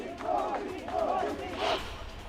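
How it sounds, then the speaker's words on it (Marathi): BJP workers celebrating a victory chant a slogan in three loud, rhythmic swells, close and dense, with no other sound between the calls. "जय श्रीरामचे नारे देत गुलाल उधळत भाजपकडून जोरदार सेलिब्रेशन करण्यात आलं"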